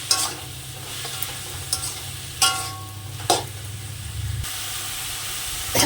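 Gimi greens being sautéed in a pan for a prawn and greens dish, a steady hissing sizzle punctuated by a few sharp scraping stirs, close and fairly loud with no talking.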